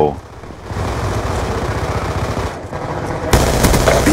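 Loud automatic rifle fire in Call of Duty: Black Ops 2 online multiplayer Domination on the Raid map, a steady rapid rattle of shots for several seconds ending in a sharper burst, with players talking.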